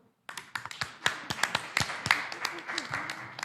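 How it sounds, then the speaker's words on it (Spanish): A small group claps after a Spanish Bible study session, with uneven, separate hand claps that build into a scattered patter, fairly close and moderate in volume, with little talk. "Bien, muy bien, un aplauso."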